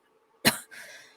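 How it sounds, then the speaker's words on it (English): A single sharp cough bursts out close and loud, followed by a softer breathy rasp as the throat clears, then a brief catch at the end. "I keep wanting to cough."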